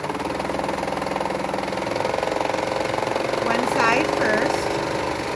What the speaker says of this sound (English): I don't know how to use a serger very well, but I know it does a nice clean job of finishing edges.